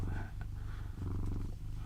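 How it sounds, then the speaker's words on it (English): A cat purrs steadily and close by, a continuous low rumble running through the whole stretch alongside a voice speaking on a live stream. "so sorry if you're hearing the purring."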